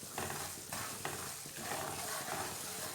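Semolina roasting in ghee for suji halwa gives a steady dry sizzle, with a spoon or spatula scraping and stirring in rhythmic strokes close up, and no talk.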